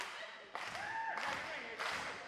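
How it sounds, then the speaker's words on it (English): Crowd at a wrestling match claps in several short bursts, with a muffled, roomy sound under loud voices and a distant arena hum. "The crowd is clapping."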